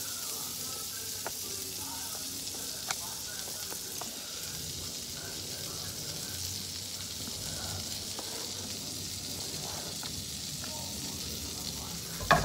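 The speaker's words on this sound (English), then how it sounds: "So I've got that frying." Food sizzles steadily in a frying pan, a close, even crackling hiss that runs throughout with a few faint clicks of utensils.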